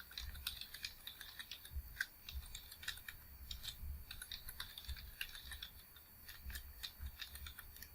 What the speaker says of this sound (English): So let's type our password.